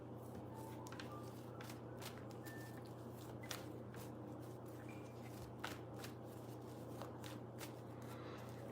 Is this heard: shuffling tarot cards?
yes